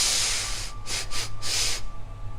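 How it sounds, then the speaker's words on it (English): A run of five short, sharp sniffing breaths drawn in through the nose during a beginners' meditation breathing exercise, close and clear, then a held breath with quiet hiss. "5 sniffs if you can."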